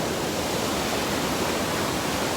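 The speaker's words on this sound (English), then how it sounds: "the river is way down below me" A river flowing far below a Pacific Crest Trail hiking path makes a steady, unbroken broadband rush that stays even throughout with no voices.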